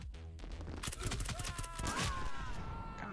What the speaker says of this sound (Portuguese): Caraca, deu um tiro em mim e me matou.